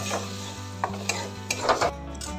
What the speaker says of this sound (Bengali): এটা লো হিটে ধীরে ধীরে নেড়ে নেব